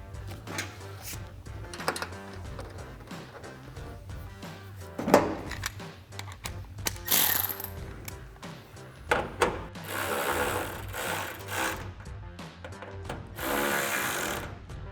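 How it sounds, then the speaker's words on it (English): A ratchet with a 10mm socket tightens the supplied bolts on a new LED smoke-lens taillight with black housing on a 2014–2018 Chevrolet Silverado 1500, giving irregular close clicks and scrapes that grow busier toward the end. "we're going to take the supplied bolts and a 10mm socket and a ratchet, and we're going to reinstall, or we're going to tighten down the bolts in the new taillight"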